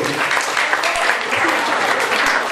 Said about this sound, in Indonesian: Oke, tepuk tangan untuk yang maju.